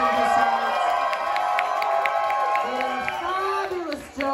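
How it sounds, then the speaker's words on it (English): An audience at a live drag performance contest heat cheers, whoops and applauds continuously over stage music, fading briefly near the end. "I want a massive round of applause"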